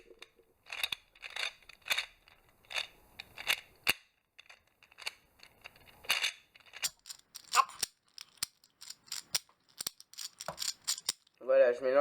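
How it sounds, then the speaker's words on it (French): A Gear Cube 2x2x2 puzzle scrambled by hand along three axes, with rapid ratcheting clicks and plastic rattles in irregular bursts, close and fairly quiet, and a brief voice near the end. "Donc pour mélanger ce cube, on va le mélanger sur ces trois axes."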